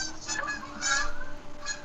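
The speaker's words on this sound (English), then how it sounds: "Why am I hearing geese? Because there were geese outside my window." Geese honk outside a window in a cluster of loud, nasal calls, a few overlapping honks coming in quick bursts against quiet room noise.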